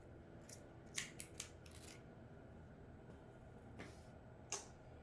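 Rope safety shears snip and chew at a rope in a series of sharp, separate crunching cuts, scattered unevenly over a few seconds, faint and close, with no talking.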